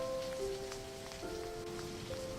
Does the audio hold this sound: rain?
yes